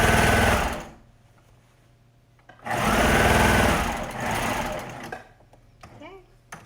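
A sewing machine stitches the shoulder seam of a kids' hoodie in two close, loud bursts of rapid, even whirring, with a quieter pause between and softer handling noise after.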